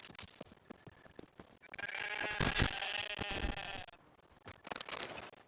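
Sheep bleating in the video game The Witcher 3, a few wavering bleats in the middle of the clip over soft footsteps and game ambience, with a shorter call near the end.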